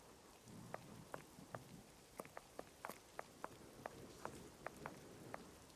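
Soft, steady rain hiss in Sherlock Holmes: The Awakened, with scattered sharp droplet ticks and patters, faint and close, no voices.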